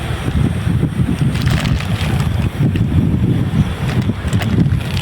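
Strong outdoor wind buffets the microphone in a continuous loud rumble with gusty swells, and no speech is heard.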